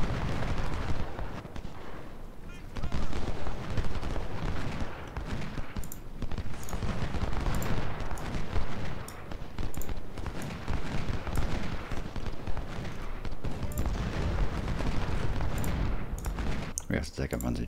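Continuous Civil War battle din in a strategy video game at Antietam: dense, overlapping musket volleys and booming artillery fire rolling on without a break, loud and crowded.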